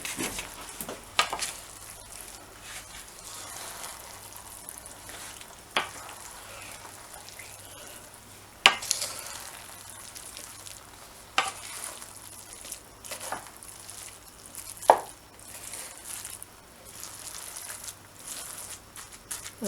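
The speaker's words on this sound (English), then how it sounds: "Just let it simmer." Spicy chicken and rice simmering in a pan, giving a steady low bubbling sizzle with occasional sharp pops and a few utensil clinks, close and continuous.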